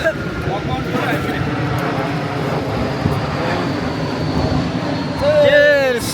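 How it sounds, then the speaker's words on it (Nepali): Airplane passing overhead above an East Coast Park beach picnic in Singapore, a steady broad jet roar under a crowd of voices talking and chatting, with a brief whistle-like tone near the end. "प्लेन पनि यहाँ माथिबाट चाहिँ उडेको गर्छ।"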